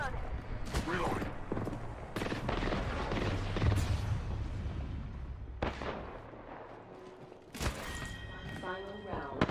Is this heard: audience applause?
no